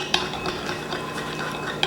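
A whipped shea butter mixture is stirred in a bowl, giving close, soft scraping and light clinks of a utensil against the bowl over a short stretch.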